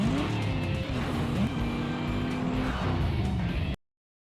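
Truck racing engines from the PlayStation game Ford Truck Mania, a continuous loud drone of revving motors with rising and falling pitch sweeps, brief tire skids, and no voices throughout.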